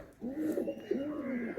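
High-flying Madrasi pigeons offered for sale in Kolkata coo close by, giving a soft, rolling, throaty call that starts after a brief quiet and carries on to the end.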